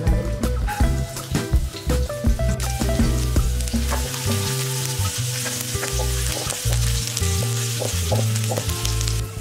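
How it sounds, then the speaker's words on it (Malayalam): Coconut oil crackles and sizzles in a hot pan for tempering a long bean and prawn stir fry, loud and close, with sharp pops and stirring scrapes over a steady frying hiss. "ഇനി നമുക്ക് ഒന്ന് താളിച്ചെടുക്കാം. തട്ടി ചൂടാക്കുമ്പോൾ കുറച്ച് വെളിച്ചെണ്ണ"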